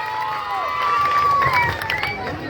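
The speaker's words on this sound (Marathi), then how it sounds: "जोरदार टाळ्या झाल्या पाहिजे संकेतसाठी." A crowd at a film promotion event cheers and shouts with some clapping, a lively mass of voices with whoops rising over the noise.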